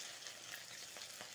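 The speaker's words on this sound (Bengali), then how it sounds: "এখন উল্টাই দিব, সুন্দর লাল লাল করে ভেজে নিব" Ash gourd fritters fry in hot oil until golden red, giving a steady, close hiss of sizzling that continues without pause.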